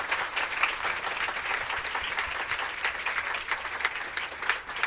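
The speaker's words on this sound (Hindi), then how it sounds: "मैं चाहता हूं कि जोर से एक बार तालियां बजा के उनका स्वागत किया जाए" A church congregation applauds to welcome pastors on a pastors' appreciation day, a continuous, fairly soft spread of many hands clapping at even level for the whole stretch.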